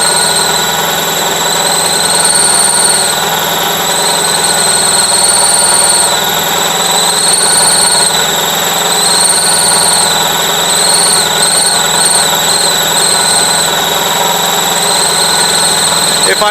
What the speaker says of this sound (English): I changed both head gaskets. It idles real nice now.